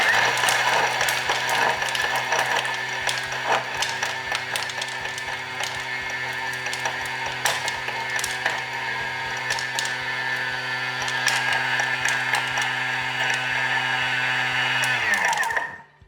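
Food processor running on speed 9, blending cheesecake crumb for a salted caramel cheesecake, a loud steady motor whine with rattling crumbs that runs for about fifteen seconds and then cuts off.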